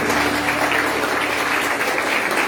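A church congregation applauding during a Holy Communion service, a short burst of steady, even clapping filling the room with no speech over it.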